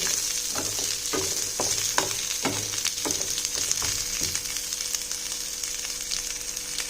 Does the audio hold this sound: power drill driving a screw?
no